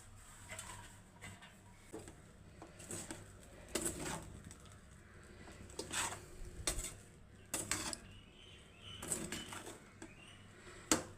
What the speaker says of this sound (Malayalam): ഇനി നമുക്ക് മല്ലിയില വിതറി മല്ലിയില വിതറി ഇളക്കിയെടുക്കാം